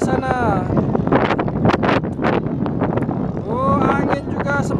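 Strong wind buffets the microphone at a boat race at Labuhan Jontal, giving a continuous roar with gusts. Someone speaks excitedly throughout.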